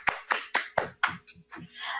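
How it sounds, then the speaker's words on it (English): Sparse, close hand claps from a small audience at a community conference, about seven distinct loud claps in an uneven rhythm, each sharp and separate. "So can we also give them a round of applause?"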